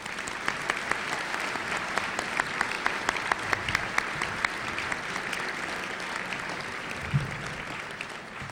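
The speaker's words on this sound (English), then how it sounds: "Now let's give them a round of applause." A club luncheon audience applauds for a chairman and CEO, a steady roomful of clapping with a few sharper individual claps popping out, sustained and even for several seconds.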